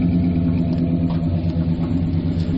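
An old truck engine with true dual exhaust idles with a deep, steady, burbling exhaust rumble, loud and close, holding an even pace throughout.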